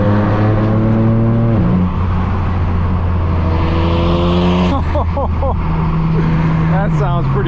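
A straight-piped BMW M4 F82 drones loudly from inside the cabin, then spits bursts of exhaust snaps and crackles as the revs drop, with a voice talking over it.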